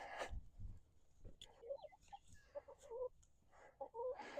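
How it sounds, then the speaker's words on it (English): Farm chickens cluck and squawk in short, scattered bursts nearby as they are let out, several birds calling over each other with soft rustling between. "You're free, chickens"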